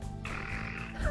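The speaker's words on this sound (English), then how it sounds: "made snoring sounds as if he were asleep" A man fakes snoring as if asleep, a single short, low, croaking snore up close with no other sound.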